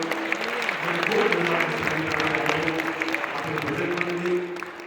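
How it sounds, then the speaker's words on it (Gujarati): An audience at a religious recitation event claps for the accompanying musicians, a steady round of applause under a sustained low hum of music or amplified sound. "ઊંચા હાથની તાળી અમારા સંગીતવાળા વાળા માટે વગાડજો."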